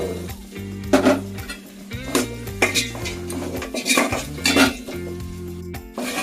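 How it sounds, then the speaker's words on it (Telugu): Potato pieces tumble into a pot of cooked onions for pulao, bringing close metallic clanks and utensil clatter in irregular bursts. "ఇందులోనే బంగాళదుంప ముక్కలు అయితే వేసుకోవాలి."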